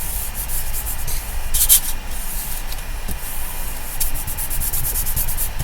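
Paper dome card being rubbed down by hand, a steady close scratchy rubbing that runs through the whole stretch with slight swells, no talking.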